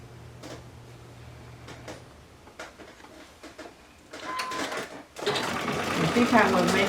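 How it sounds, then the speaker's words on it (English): A sewing machine straight-stitching fabric strips for coasters starts up after a few handling clicks and rattles, then runs as a steady close whir to the end. "This is basically a project that will just involve straight stitching."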